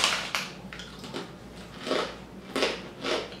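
Baked Parmesan garlic pita bread chips are bitten and crunched close up, several sharp crisp bites and crunches spaced irregularly with quieter chewing between them.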